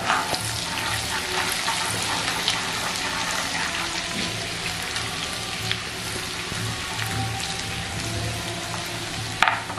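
Garlic and ginger sizzle in oil on a tawa over a medium flame, giving a continuous close crackling hiss with faint occasional clinks and a sharp tap near the end.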